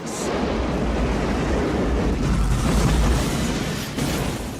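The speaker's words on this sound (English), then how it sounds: "all of those explosions that we were seeing were probably straight up real, miniature" A loud, sustained explosive roar from a practical miniature explosion in a film scene, with a rumbling, crackling body that holds for several seconds before tapering slightly, with no voices.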